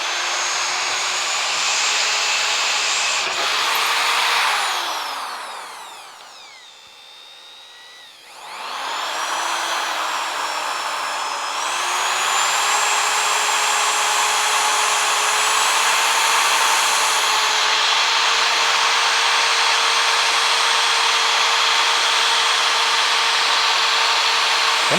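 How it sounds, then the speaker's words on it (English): A power drill bores holes in the body of a Crew Cab Charger under restoration. Its loud, steady whine winds down and stops partway through, then spins back up and runs continuously to the end. "Once I got the bit making a hole, I'm good."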